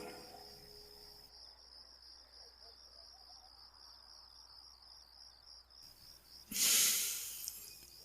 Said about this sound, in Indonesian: Sesekali kudengar suara binatang malam seperti jangkrik